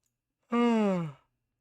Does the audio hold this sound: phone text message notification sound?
no